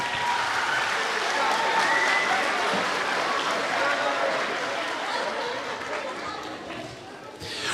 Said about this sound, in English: Give these kids a huge round of applause one more time.